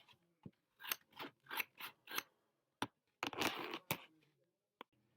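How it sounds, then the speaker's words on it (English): Scissors snip through a cardboard box to cut it in half, a series of close, crisp cuts and crunches in a quiet room, with pauses and a few sharp clicks between strokes. "Now the next thing I'm going to do is cut it in half."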